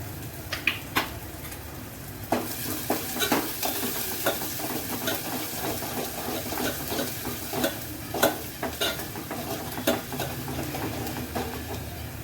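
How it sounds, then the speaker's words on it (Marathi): Chopped onion sizzles in hot oil in a pan for dal fry, a soft, constant frying hiss broken by sharp spoon clicks and scrapes as it is stirred now and then. "आपला कांदा चांगला फ्राय झालाय"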